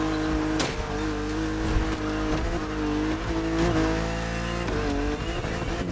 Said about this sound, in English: Your car is the Z4 E89, a very cool model